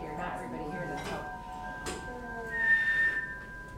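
A person whistles a few sustained, steady tones at moderate volume while other people talk over them.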